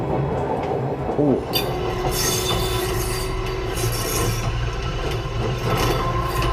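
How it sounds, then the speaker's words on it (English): A battery-powered train coasts along with regenerative braking engaged, giving a loud, continuous rumble of wheels on rails with a rising squeal and some rattling. A person briefly exclaims partway through. "This is a battery-powered train."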